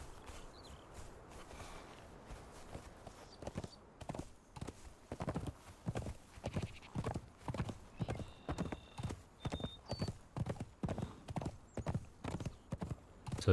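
Horse hooves clip-clopping in the game Conan Exiles, a steady, even walking rhythm of clear hoof strikes that starts softly and grows louder and quicker, with a brief neigh and faint game tones.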